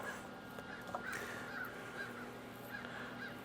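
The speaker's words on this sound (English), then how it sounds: "The birds are happy." Crows cawing outdoors near a backyard grill where ribs are being smoked, a series of harsh calls at moderate distance, fairly faint over steady ambient hum, with no one talking.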